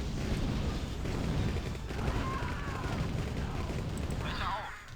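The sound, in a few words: gunfire hitting gates in Command & Conquer video game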